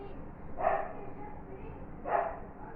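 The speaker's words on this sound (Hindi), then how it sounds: "कुत्ता भौंक रहा है" A dog barks twice in a domestic scene of a TV drama, two separate mid-distance barks a second and a half apart over a steady muffled background.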